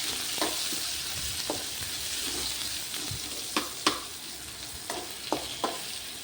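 A large onion frying in a pan while being stirred, a soft continuous sizzle with scattered sharp clicks of a spoon against the pan, close and moderately quiet with no talk.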